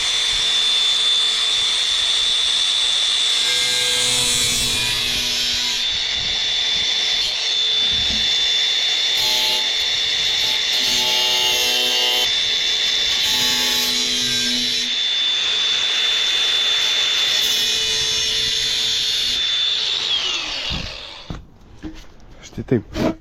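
A battery-powered cutting tool saws through a rain downpipe, giving off a loud, steady, high-pitched whine for about twenty seconds before it winds down and stops, followed by a few light clattering knocks.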